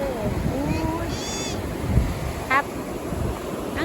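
Surf washes and rumbles at Chao Lao Beach in Chanthaburi against a windy backdrop, with gusts buffeting the microphone and a few faint voices and bird-like chirps passing by.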